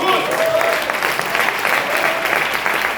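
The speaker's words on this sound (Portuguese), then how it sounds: "Então vamos dar um aplauso para o Senhor Jesus." A crowd claps steadily and loudly throughout a church couples' seminary, a dense, continuous burst of applause with no voices standing out.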